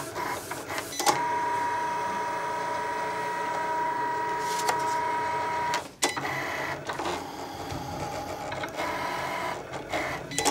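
A Cricut Explore cutting machine cuts a bookmark, whirring and buzzing mechanically with a steady motor tone, a brief pause partway, then further carriage movements and clicks.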